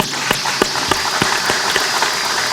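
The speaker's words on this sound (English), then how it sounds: "A round of applause for her, please." Applause for a woman honored at a university literary event, heard as a thin scattering of claps with a few sharp, separated hand strikes over a steady hiss.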